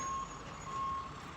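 A truck being towed gives off electronic reversing beeps, two steady tones separated by a brief gap, over a low engine rumble with no talking.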